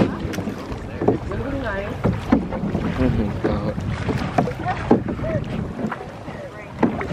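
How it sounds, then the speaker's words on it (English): A kayak is paddled on the Oleta River, with water splashes and paddle strokes under wind noise on the microphone while people talk nearby. "So we are kayaking out here."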